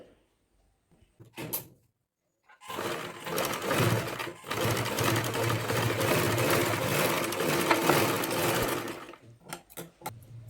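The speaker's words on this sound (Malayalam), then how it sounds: "തുണി മടക്കിയതിന് ശേഷം സൈഡിലൂടെ സ്റ്റിച്ച് ചെയ്ത് കൊടുക്കുക" A sewing machine stitches along the side of a folded cloth edge. A few clicks are followed by about six seconds of steady, close mechanical whirring, then it stops and a few more clicks and handling sounds follow.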